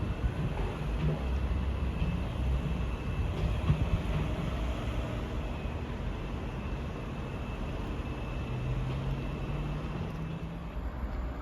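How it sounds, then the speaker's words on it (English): Steady low rumble of a ScotRail train pulling into Stirling station, a continuous broad drone with faint squeals, heard from the platform at moderate distance. "Arriving now is the 1438 ScotRail service from Dunblane to Edinburgh Waverley."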